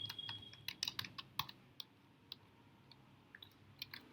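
Keystrokes on a computer keyboard while code is typed in Python, a rapid irregular run of close clicks at the start, thinning to scattered taps, quiet and alone.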